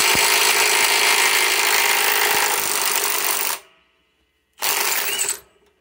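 A DeWalt XR DCF891 cordless impact wrench hammers loudly and continuously for several seconds while loosening a fastener, cuts out briefly, then fires another short burst.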